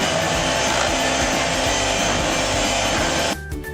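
An electric beater whirs loudly and steadily through cake batter mixed with sunflower oil, a constant motor drone that cuts off abruptly near the end, leaving a brief quieter tail.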